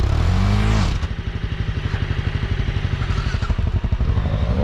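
Motorcycle stuck in sand on a forest trail, engine revving hard with a rapid pulsing beat as the rear wheel spins and churns, loud and close, settling into a choppy labored throb.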